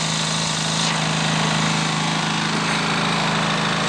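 A Fubag TI 2000 gasoline inverter generator runs steadily nearby, a loud continuous engine drone with a buzzing, hammering texture that holds evenly throughout with no talk.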